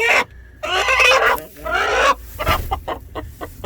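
Backyard hens fed on kitchen scraps cluck and squawk loudly in several close, agitated bursts, followed by lighter scratching and rustling sounds.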